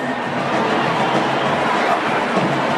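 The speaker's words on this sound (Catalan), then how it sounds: "un fort aplaudiment" A festival audience at Festivern gives a loud round of applause, a dense, steady wash of many hands clapping that holds at an even level for the whole stretch, with no speech over it.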